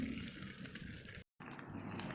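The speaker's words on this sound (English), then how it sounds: "The wax is boiling." Molten wax boiling in a pot on a homemade ZVS induction heater gives a steady, close, bubbling hiss that breaks off for a moment and then resumes.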